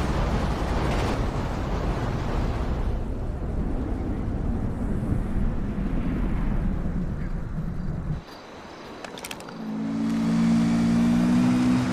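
An ATV engine in GTA 5 drones as a loud, continuous rumble for about eight seconds, cuts out suddenly, then returns as a steady revving hum.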